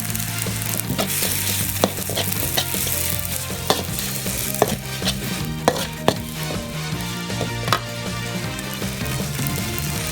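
Glass noodles with mackerel and egg stir-fried in a hot pan, seasoned with fish sauce and oyster sauce, with a loud steady sizzle and frequent sharp utensil scrapes and clacks against the pan throughout.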